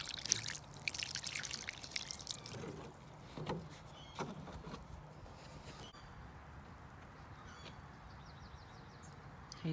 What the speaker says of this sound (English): So I'm gonna rinse off one of these.